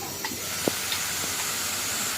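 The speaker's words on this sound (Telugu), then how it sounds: "ఓకే అండి, చూసారు కదా వేగుతుంది." Carrots frying in a pan for a carrot fry dish, giving a steady, faint sizzling hiss throughout with a few small pops, no talking.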